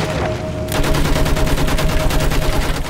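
Rapid automatic gunfire rattles in a Battlefield 1 World War I battle, a dense, loud, continuous burst of machine-gun shots heard up close.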